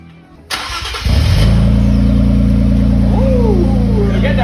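An Infiniti Q60 with its exhaust removed starts up, turning over briefly before catching into a loud, deep, steady idle rumble heard up close, with faint voices in the background.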